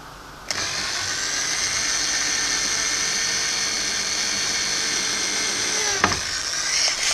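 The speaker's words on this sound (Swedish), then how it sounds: "Då spikar med en borrmaskin" A power drill driving nails whines at a steady high pitch for several seconds, starting and stopping abruptly, loud and close, with no talking.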